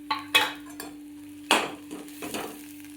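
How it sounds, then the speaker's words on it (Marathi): Masala roasting in oil with coconut for mutton, scraping stirs and soft sizzling in a pan, a few distinct strokes over a low steady hum, no talking. "आपला मसाला असा चांगला भाजत आहे."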